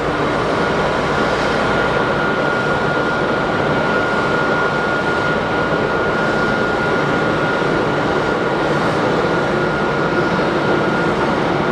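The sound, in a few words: Challenger-like business jet taking off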